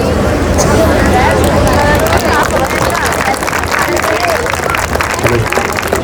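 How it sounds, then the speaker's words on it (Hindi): A crowd gives loud, dense applause at an alumni meet, sustained clapping from many people together with crowd chatter, close and filling the whole stretch. "जोरदार तालियां।"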